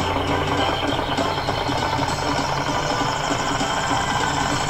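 Truck muffler exhaust and engine sound from the video game Bakusou Dekotora Densetsu, a steady, loud, continuous drone with a rough idling rumble throughout, no speech.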